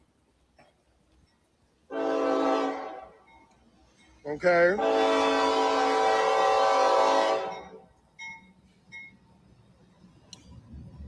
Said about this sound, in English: There's a train behind us.